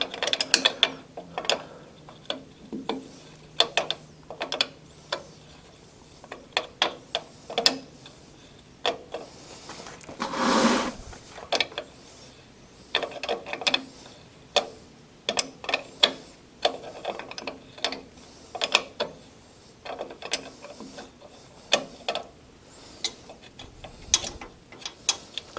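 A wrench works loose the brake line B-nut on a 1979 Chevrolet C10 in a series of close, sharp metallic clicks and ratcheting taps at an uneven rhythm, with one brief louder scrape partway through and no talking.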